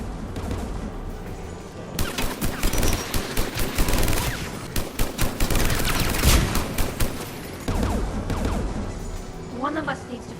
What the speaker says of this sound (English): AA guns ahead.